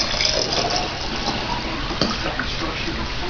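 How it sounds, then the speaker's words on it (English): Homemade marinade pours into glass canning jars in a close, continuous gushing stream of liquid lasting a few seconds, with a brief splashy burst midway. "I have canning jars that I'm just going to put my marinade in"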